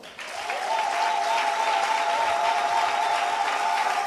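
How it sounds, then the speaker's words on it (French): A church congregation claps in sustained, steady applause that swells quickly and holds loud and dense, with a faint held tone beneath and no speech. "Nous les acclamons encore."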